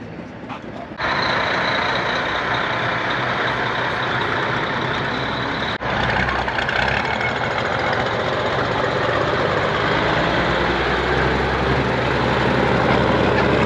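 Old Diamond T trucks run at an antique truck convention in York, Pennsylvania, their engines starting up and then holding a loud, steady, close rumble with a brief dip partway through.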